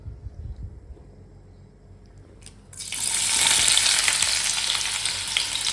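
Onions tipped into a pan of melted sugar start frying: quiet stirring at first, then a loud, steady broadband sizzle bursts in partway through and keeps crackling close up to the end.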